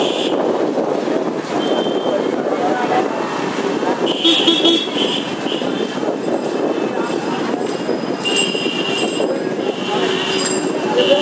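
Vehicle horns honk in a crowded Haridwar market street, with short bursts recurring over a loud, steady wash of crowd chatter and traffic.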